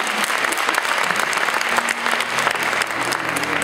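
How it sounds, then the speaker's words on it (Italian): Dense audience applause at a cabaret show for a police association, continuous clapping from a large crowd for several seconds with a faint voice underneath near the end. "Facciamo un applauso a Lori."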